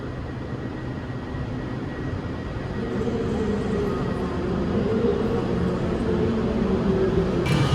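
A steady low rumble of a passenger train slowly pulling away from Manchester Airport station, building gradually in loudness with a faint high hiss near the end; no voices.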